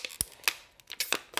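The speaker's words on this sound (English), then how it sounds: "If my scissors will work," Scissors snip through a thin plastic water bottle in a quick series of sharp, crisp cuts and crackles, close and fairly loud, with no talking.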